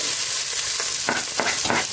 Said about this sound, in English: I'll just add some garlic to it and our ginger so they can continue cooking.